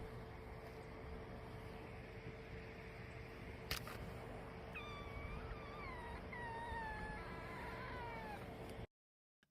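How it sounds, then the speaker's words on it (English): A kitten meows several times in thin, rising-and-falling cries partway through, faint against a steady background hum and hiss. "That's Total Blackout's new kitten."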